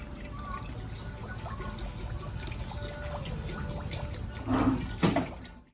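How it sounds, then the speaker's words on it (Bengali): Water pours into a cooking pot with a soft, close trickle under low background hum, swelling into a brief louder gush near the end. "এবার জল দিয়ে দেবো"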